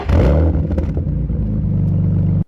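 The engine of a 1999 BMW Z3 roars loud and close in one sustained rev with a deep, throaty drone, then cuts off abruptly at the end.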